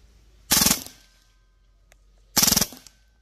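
Two separate rapid full-auto bursts from a Hatsan Blitz PCP air rifle, each a tight run of clattering shots lasting about a third of a second, loud and close, with a quiet pause between bursts.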